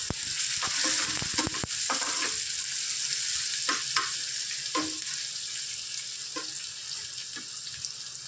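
Onion sizzles in hot oil in a pan while a spoon stirs it during beetroot cooking. Scraping clatters come early, then a continuous bright frying hiss, with occasional stirring knocks.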